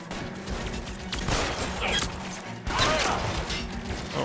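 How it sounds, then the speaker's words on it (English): Shootout gunfire in the L.A. Noire Remastered video game: rapid, overlapping gunshots in dense volleys, with a brief lull and then another loud burst, close and sharp throughout. "he is just pelting us with bullets"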